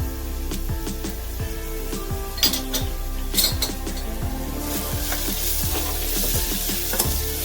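Curry leaves and chili fry in a pan, a steady sizzle under repeated scraping stirs and light clinks of utensil on metal, close and fairly loud throughout.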